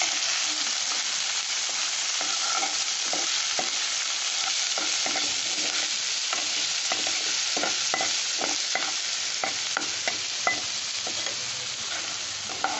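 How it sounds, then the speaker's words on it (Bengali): Cashews and carrots stir-fried in a pan for paneer fried rice: a steady, close sizzle runs throughout, broken by repeated scraping and stirring clatter. "এবার আমি কাজু বলছি, এটা গাজর আর এইটা দিয়ে দিচ্ছি, একটু কষে নেড়ে চেড়ে তারপরে চালটা দেবো"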